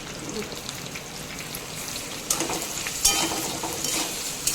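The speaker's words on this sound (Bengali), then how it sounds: "ছোলার দানাটাও আলুর সাথে 2-3 মিনিট ধরে ভালো মতো ভেজে নেব।" Potato pieces and soaked chickpeas fry in oil in a pan, making a continuous close sizzle and crackle with a few louder bursts as they are stirred, and no talking.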